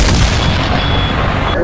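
A loud, dense roar of cannon fire from a pirate ship fills the moment, a sustained booming blast that stays close and heavy before cutting off abruptly.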